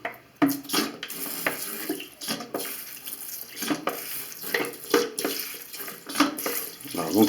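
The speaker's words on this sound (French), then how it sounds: "On renverse le vinaigre à l'intérieur." Vinegar is poured from a container into a bathroom washbasin drain, giving a close, uneven splashing and gurgling flow with irregular bursts as the liquid runs down into the trap.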